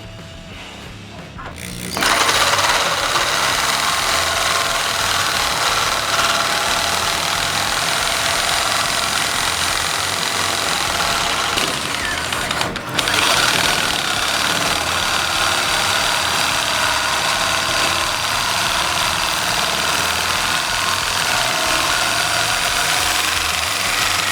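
A saber saw fitted with a metal-only blade starts after a short quiet moment and runs as a loud, continuous, rough buzz, with one brief dip partway through before the steady cutting resumes.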